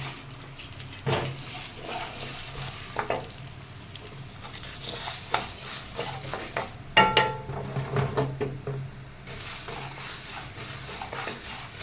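Chana dal frying in a pan for pirandai chutney, a light sizzle broken by clattering stirs and scrapes of a utensil, with louder bursts of stirring in the later half and no talking.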